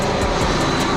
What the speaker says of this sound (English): there's like so many planes trying to land right now when I'm trying to film